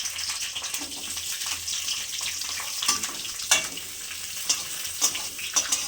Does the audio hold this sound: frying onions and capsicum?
yes